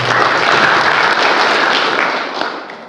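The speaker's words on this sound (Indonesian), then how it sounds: "Tepuk tangan kawan-kawan sekalian." A large crowd at an Indonesian labor union gathering breaks into loud, dense applause, a steady roar of many hands that tapers slightly toward the end, without speech.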